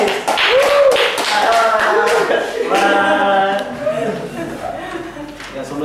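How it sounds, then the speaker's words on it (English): An audience at an English debate competition claps for the opposition team's third speaker, sharp individual claps ringing out over overlapping voices and chatter in the room. "Give applause, please."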